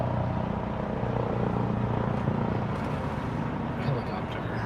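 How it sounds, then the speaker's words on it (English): A helicopter drones steadily overhead outdoors, a continuous low rumbling engine hum that stays fairly distant under someone talking. "There's a helicopter out there."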